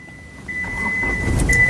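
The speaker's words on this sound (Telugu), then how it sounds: "ఈ కార్ని స్టార్ట్ చేయాలంటే పుష్ స్టార్ట్ బటన్తో స్టార్ట్ చేయాల్సి ఉంటుందండి" 2015 Hyundai Xcent SX started with its push-start button, with a steady electronic tone, then the engine catching and settling into a low, rising idle rumble close by.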